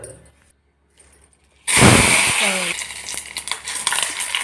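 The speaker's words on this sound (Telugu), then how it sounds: "ఇంకా ఇప్పుడు ఇట్లా కళాయి పెట్టుకొని మన సరిపో నూనె వేసుకోవాలి." Cumin and onions dropped into hot oil in a kadai, near-silence broken by a sudden loud burst of sizzling that settles into steady crackling frying with stirring clatter, close by.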